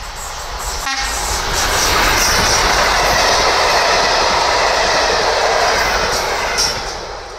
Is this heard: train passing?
yes